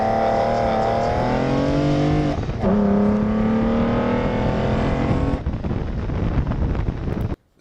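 A custom car engine revs loudly and steadily close to the microphone, its pitch rising and falling across several seconds with wind noise, then cuts off abruptly at the end.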